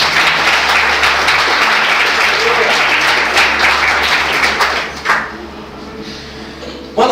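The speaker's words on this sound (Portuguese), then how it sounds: "Você pode dar uma salva de palmas para Jesus?" A church audience applauds during a sermon, dense, loud, sustained clapping that fills most of the time and then drops off sharply near the end, with some crowd noise mixed in.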